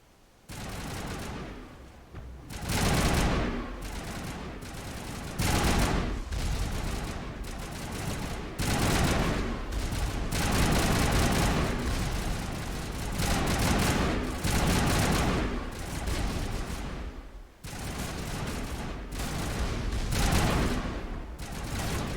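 Sustained automatic gunfire in Mass Effect Legendary rattles almost nonstop in long, dense bursts, loud and close, with only brief pauses between volleys.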